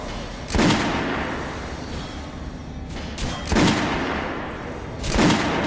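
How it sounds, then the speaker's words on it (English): Gunshots from Metro Last Light at an in-game shooting range, three loud separate blasts spaced a couple of seconds apart over a steady low background rumble. "head over to my range and try out those guns"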